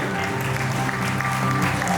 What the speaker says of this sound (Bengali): ত্রিয়াশা সরকারের জন্য একটি করতালি চাই